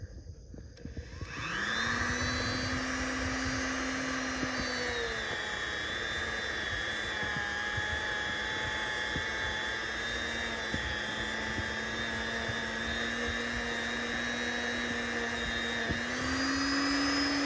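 A Dremel rotary tool with a Scotch-Brite wheel spins up and runs against a car wheel to strip old brake dust, giving a steady, loud, high-pitched motor whine that holds for many seconds with slight shifts in pitch as the load changes.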